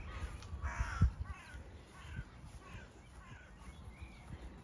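Several crows caw in short bursts over a quiet outdoor background, some calls louder and nearer, others faint.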